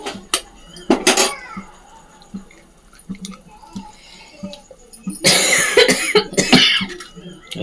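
Several loud, close coughs come in bursts, with a longer coughing fit near the end and quieter clatter between.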